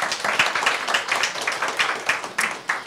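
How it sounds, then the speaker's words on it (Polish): An audience at a talk on a writer's responsibility for historical truth applauds, steady clapping from many hands at a moderate distance, continuous and fairly even throughout, with no speech over it. "No więc również poproszę o klaski."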